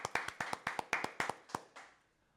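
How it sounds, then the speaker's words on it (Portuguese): A single person claps about ten times in a steady, even rhythm, close and fairly quiet, the last clap trailing off into a brief fade. "Quero pedir uma salva de palmas para essa temporada."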